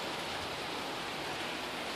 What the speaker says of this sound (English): Rain and nastiness.